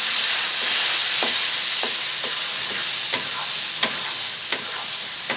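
Petha halwa being stirred with semolina in a pan, a soft continuous scraping and sizzle with repeated sharp spoon strokes against the pan, close up and alone with no voices.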